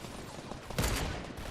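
A short, fairly quiet burst of rapid gunfire from the video game Fortnite cuts through a dense background of in-game noise.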